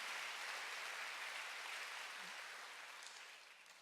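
Church congregation applauding during a sermon, a steady wash of clapping that fades slightly toward the end, moderately distant and alone.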